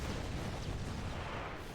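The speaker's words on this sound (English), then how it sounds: "What's that explosion thing? Is that the new effect on the fireballs?" Dense, rumbling explosion effect from fireballs in the Rise of the Reds real-time strategy game, a steady roar of broadband noise that holds loud throughout without distinct separate blasts.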